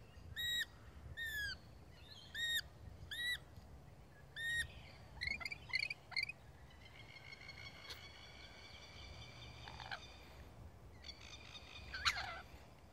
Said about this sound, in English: They're nice lorikeets, aren't they?